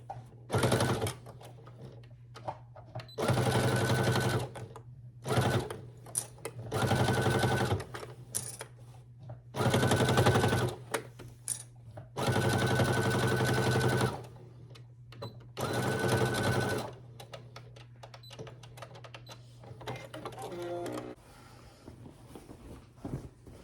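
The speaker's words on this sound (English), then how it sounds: "Makes it easier to sew." Sewing machine stitching seams on a summer tote bag, running in several loud bursts of a few seconds each with short pauses between them and a steady low hum throughout.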